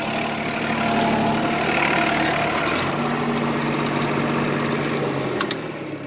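A New Holland TD65 tractor engine labours steadily as it climbs uphill out of a furrow, a continuous loud mechanical drone with a small shift in tone partway through and no talking.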